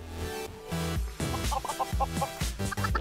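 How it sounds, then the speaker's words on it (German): Chickens clucking on a chicken farm in the Minecraft video game, with a run of short, repeated clucks and a few higher squawks over low game ambience, fairly close and with no speech. "Dann gucke ich mal, wie es mein Hühnchen geht."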